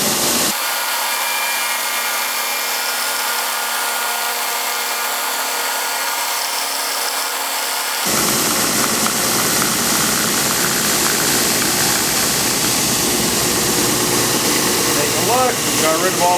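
Drum sander running loud and steady as wood is fed through for a three-legged stand, a harsher, brighter grinding roar kicking in partway and continuing to the end.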